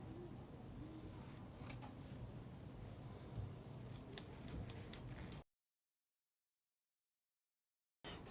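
Scissors cut fabric for a kimono dress with a series of soft close snips and rustles, then the sound drops to dead silence for several seconds before a brief return at the end.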